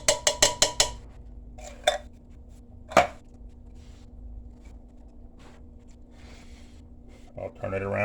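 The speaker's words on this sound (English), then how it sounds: "And we're just going to dump them in the pot." Beans dumped into a cooking pot for chili, with a rapid run of metallic clanks at the start and then scattered knocks and scraping against the pot, under a voice talking.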